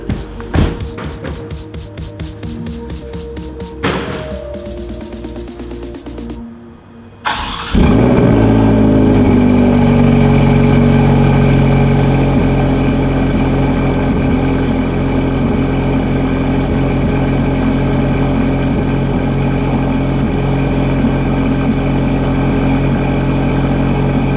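A Ferrari Portofino engine cranks and roars to life, then settles into a loud, steady idle that rumbles on without a break.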